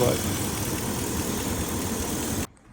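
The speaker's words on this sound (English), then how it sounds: "now that the engine's warmed up" Idling BMW V8 car engine, warmed up and treated with Seafoam, giving a steady, close, loud rumbling drone that cuts off abruptly near the end.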